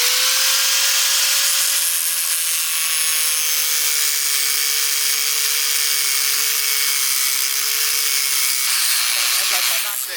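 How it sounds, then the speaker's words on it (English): An angle grinder cuts steadily for about ten seconds during work on an E36 BMW M3, giving a continuous, loud, high-pitched whine with a sustained hum beneath it. "First time using the angle grinder."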